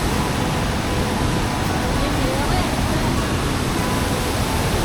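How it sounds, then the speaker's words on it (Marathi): Heavy rushing water from a flooded waterfall on farmland after rain, a steady loud roar filling the whole clip with no pauses. "तो तट मोठा धबधबा आणि यो बारीक धबधबा."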